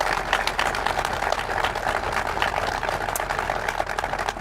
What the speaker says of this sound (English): So let's give the people in blue a round of applause